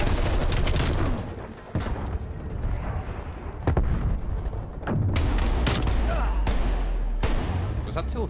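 Sharp gunshots crack out in Call of Duty Black Ops Cold War during a Miami Assault match, scattered single shots and short bursts with booming impacts, while players talk over the firefight.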